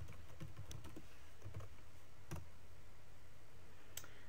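Computer mouse clicking while an SSIS package is created, a few faint scattered clicks close by over a quiet room hiss, then a longer pause before one last click.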